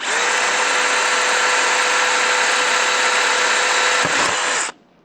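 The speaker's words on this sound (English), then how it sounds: "Just going to put that on in that hole, and we're going to drill it." A power drill whirs steadily at high speed for several seconds, close and loud, then winds down and stops.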